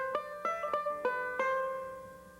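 A banjo is picked in a quick run of bright, ringing plucked notes, five or six attacks in an uneven rhythm, fading as the last one rings out.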